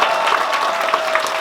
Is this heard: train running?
no